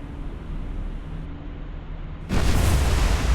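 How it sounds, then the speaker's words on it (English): A ship explosion in the naval combat game War on the Sea breaks in suddenly after a low rumbling lead-in, erupting into a loud, broad, sustained roaring blast that stays heavy until the end. "There we go, big hit and a big explosion."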